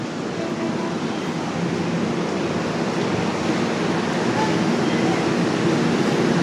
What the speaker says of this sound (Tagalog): Ayan, nasa LRT na kami mga ka-idol.